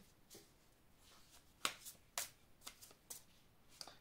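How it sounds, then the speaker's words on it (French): Tarot cards handled and shuffled at close range, a quiet run of soft riffles and several sharp card snaps spaced irregularly over a few seconds, with no talking. "je vais vous prendre les cartes comme ça"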